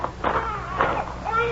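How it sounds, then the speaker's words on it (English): A baby crying in an old-time radio drama, a short run of wavering, whimpering wails at moderate volume on a slightly muffled, band-limited recording. "You could hear a baby crying"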